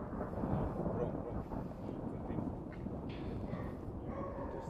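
Thunder rolling from a passing storm over a war-damaged area in Ukraine, a continuous low rumble that swells and fades across the whole stretch, heard alone without speech.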